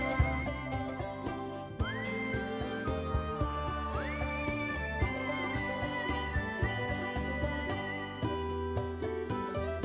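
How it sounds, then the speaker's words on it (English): A chocobo whistle tooting and a chocobo answering in the video game Final Fantasy VII. Rising whistle-like tones and neighing calls sit over a busy musical background, moderately loud with no talking. "you just give that whistle a toot and your chocobo will come a-running"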